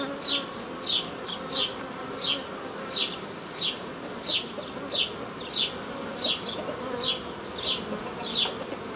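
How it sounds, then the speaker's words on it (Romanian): Honeybees buzz near a hive in a steady low drone, with short, higher buzzes passing close at a regular pace. "Foarte mult albină tânără."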